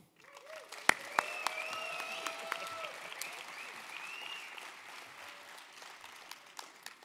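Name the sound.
audience applause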